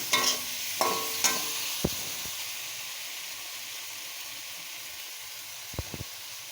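Spice masala sautés in a pan for potato egg curry: a soft, even sizzle runs throughout, punctuated by a few sharp spatula clicks and scrapes at the start and near the end.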